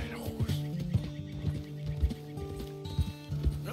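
Horse in the video game Red Dead Redemption 2, hooves clip-clopping in a steady irregular rhythm with low snorting tones close by, over a quiet game background.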